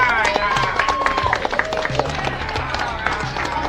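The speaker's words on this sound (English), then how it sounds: "give yourselves a round of applause for that" An audience claps and cheers in a loose burst of applause, with hand claps crackling unevenly and voices mixed in throughout.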